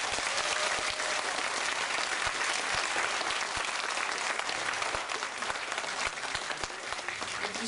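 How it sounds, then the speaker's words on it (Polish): Audience members clap warmly for a children's theatre group after their show, a dense, even wash of applause lasting throughout with a few sharper individual claps standing out. "dla nich są największe brawa za wielką miłość do teatru"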